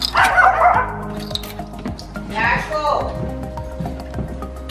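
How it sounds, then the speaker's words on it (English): A couple of dogs bark in short bursts near the start and again midway, with a person talking and background noise in between. "There comes all the barking"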